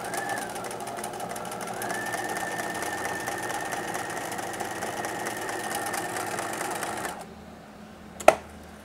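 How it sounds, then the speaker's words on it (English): Sewing machine running a zigzag stitch along the folded side seam of a swimsuit, a steady close mechanical whir for about seven seconds that then stops, followed by a single sharp click. "So as you can see, I've gotten my zigzag stitch done."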